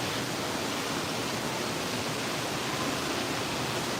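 Steady broadband rush of falling water from a waterfall feature in an aquarium tank, constant and moderately loud with no pauses or voices.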